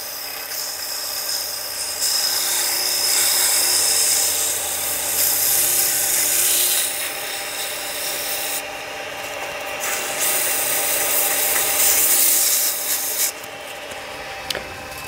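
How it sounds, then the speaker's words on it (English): A wooden honey dipper spins on a reversing lathe while 320 grit sandpaper is held against it, making a steady, close, continuous rubbing hiss that swells and eases slightly over its whole length. "I have a reversing lathe, which makes it a little bit easier to sand. Next we move to 320 grit sandpaper."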